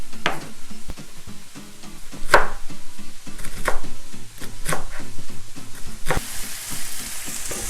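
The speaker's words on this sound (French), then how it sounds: "j'ai lancé la cuisson des courgettes et des aubergines, chacune avec un demi-oignon" Courgettes and aubergines with onion frying in a pan for ratatouille, a steady sizzle broken by repeated clicks and scrapes of a utensil stirring and turning the vegetables, close and moderately loud.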